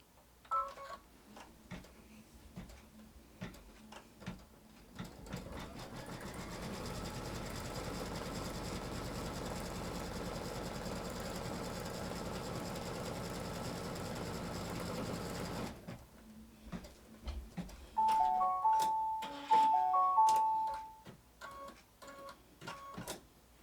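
An embroidery sewing machine stitches a quilt block in the hoop, starting with scattered ticks, then running in a steady fast whir for about ten seconds before slowing into intermittent clicks and short bursts of stitching.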